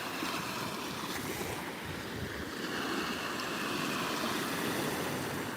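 Ocean surf washes onto a Florida Gulf Coast beach as a hurricane approaches, a steady broad rush of breaking waves mixed with wind buffeting the microphone, fairly close and continuous with no talking.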